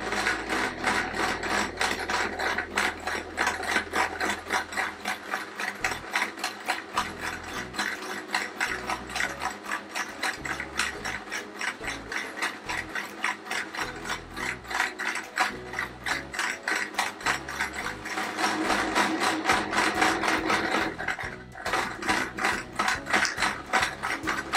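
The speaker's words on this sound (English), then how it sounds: "I'm going to be now stitching around the acorn border or hollow on the inside and outside of the ring." Close sewing machine stitching around an acorn border ring on a patchwork quilt appliqué square: continuous fast rhythmic clatter and clicking, with slight changes in speed and a brief slowdown near the end, and no voices.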